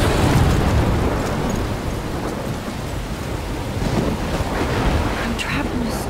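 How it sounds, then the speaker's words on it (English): A storm in the video game Life is Strange, with crashing waves, rain and gusting wind roaring loudly and continuously near a lighthouse, and a low rumble like thunder beneath. "I'm trapped in a storm?"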